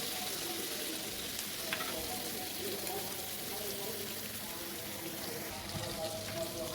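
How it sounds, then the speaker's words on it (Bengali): Steady, dense sizzling of whole quail frying golden in hot oil, constant crackle throughout with no pauses, fairly close. "সবগুলো কোয়েল পাখিকে আমি দুইটার সাইড একদম গোল্ডেন কালার করে ভেজে নেব"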